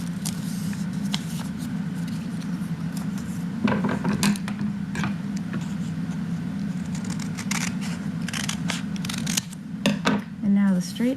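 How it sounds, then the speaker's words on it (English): Scissors cut a stacked pile of paper in half with a series of crisp snips and crunches across several seconds, up close, with a voice heard now and then. "Now you can stack all these and cut them in half."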